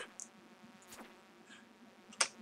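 Bees buzzing in the farming video game Stardew Valley, faint and thin, with a few brief buzzy flickers and small clicks over a quiet background and no talking.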